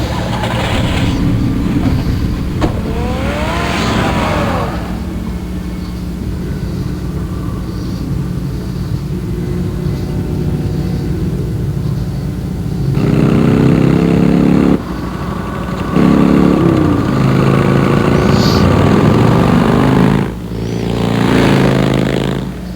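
A car drives in Batman: The Telltale Series, a steady engine rumble and low hum running throughout with no voices, swelling louder in a few surges toward the end.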